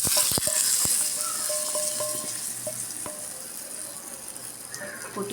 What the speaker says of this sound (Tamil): இந்த நேரத்தில் நம்ம கருவேப்பிலை சேர்த்துக்கலாம். சேர்த்துட்டு பெருங்காயத்தையும் ஆட் பண்ணிக்கலாம். நம்ம கலந்து விட்டுட்டு